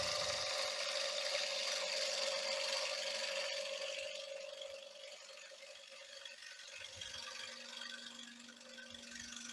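Woodturning gouge taking a bevel-riding cut on a spinning bowl, a steady scraping hiss with a faint whirring rattle from the lathe, loudest at the start and easing slightly partway through, no talking.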